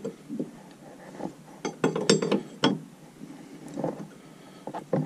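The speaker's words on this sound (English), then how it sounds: "So I'm going to loosen this top nut. This is what, this is the jam nut, they call it." A wrench works a jam nut loose on a boat's PSS shaft seal, giving irregular close metallic clicks, clinks and ratcheting scrapes in uneven bursts, with no talk.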